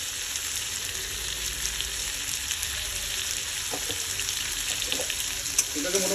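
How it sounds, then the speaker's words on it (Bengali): Chopped tomato with salt and chili powder sizzles and fries steadily in a pan for a Bengali fish curry with potato, green banana and water spinach, with a few stirring clinks near the end. "এটাকে মোটামুটি কষিয়ে নেবো"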